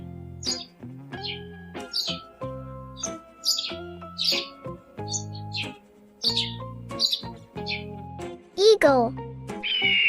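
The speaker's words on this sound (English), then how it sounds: "Sparrow." Short, bright sparrow chirps come in quick repeated bursts over a steady background of melodic music, close and clear.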